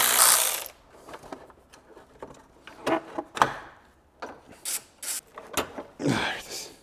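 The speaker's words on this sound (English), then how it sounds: "let's unbolt the line from the condenser here." A ratchet unbolting a line from the rusty AC condenser of a high-mileage BMW E60 M5 with a V10, giving intermittent close clicks and metallic scrapes in short irregular bursts with brief pauses between.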